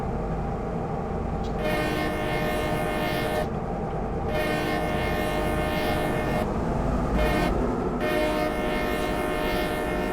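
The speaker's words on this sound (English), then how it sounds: "I'm gonna stop doing the train whistles" A locomotive horn on the NS N-Line in Train Simulator 2020 sounds in repeated long blasts with short gaps, loud over the steady rumble of the moving train.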